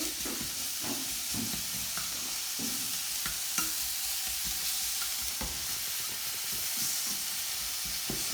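Onions sautéing in a pan with a little salt for a fish stock, a steady close sizzle broken by light stirring clicks and scrapes throughout, with no talking.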